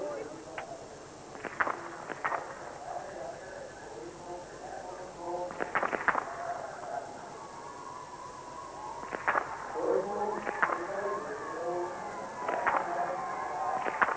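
A few sharp biathlon rifle shots ring out at irregular intervals over a steady commentator's voice and a low background hum, at the 1997 World Championships team race in Brezno-Osrblie.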